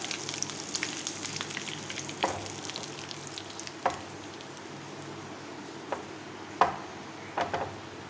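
Oil sizzles and crackles steadily, with a few sharp pops and spits as curry leaves and green chillies fry.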